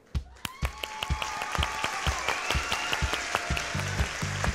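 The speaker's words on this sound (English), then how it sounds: "Please give a round of applause for Mr." A live audience at a scholarship talk show breaks into applause, a dense patter of hand claps that starts with a few sharp claps and settles into steady, moderately loud clapping throughout.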